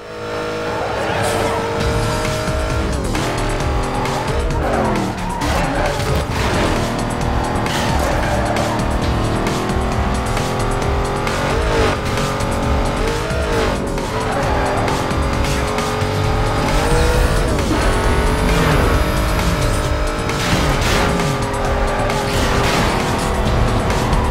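A tricked-out Mustang GT roars through a Need For Speed: Most Wanted race, its engine loud and continuous with repeated tire squeals and skids on corners. A voice talks over the action throughout.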